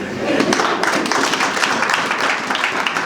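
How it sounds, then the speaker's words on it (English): A church congregation claps for a man during a sermon, a scattered burst of hand claps at moderate distance under a busy room. "let's clap for him"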